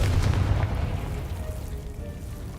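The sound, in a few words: Confringo fire-blast spell cast in video game Hogwarts Legacy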